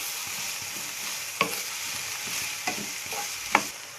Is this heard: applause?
no